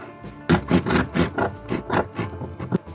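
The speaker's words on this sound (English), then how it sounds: "Handy to have one of these Tamiya craft saws. Get a nice straight cut with that." A Tamiya craft saw cutting through a plastic model part, close, crisp rasping strokes repeating in a quick back-and-forth rhythm, about ten strokes in all.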